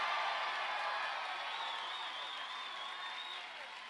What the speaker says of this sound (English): So give Mary a big round of applause.